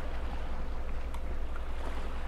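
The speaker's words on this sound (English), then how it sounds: "The waves and stuff are like super loud." Loud, continuous ocean waves and wind in a lighthouse video game, a dense washing roar with a steady low throb underneath, no speech.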